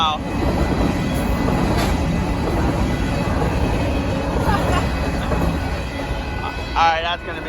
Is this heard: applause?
no